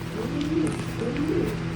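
Racing pigeons coo in a loft, two rolling, low throaty calls close by over a steady background hum.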